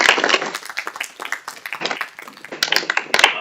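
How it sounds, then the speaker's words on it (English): Audience applause at a startup pitch competition finals, closing out a round of pitches: a burst of clapping from a modest crowd that thins and swells again over a few seconds, with some voices mixed in. "Round of applause for everyone."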